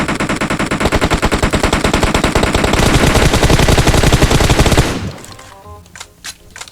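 Sustained rapid automatic gunfire in the mobile game PUBG Mobile, loud and dense for about five seconds, then cutting off to a few scattered shots and quieter game noise.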